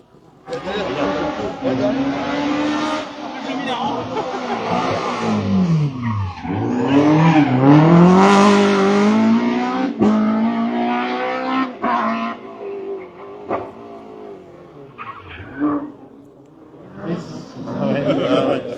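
Rally car speeding through a special stage of the Rallyes Lisieux Normandie finale, its engine rising and falling in pitch as it passes nearby, then fading, with spectators talking over it.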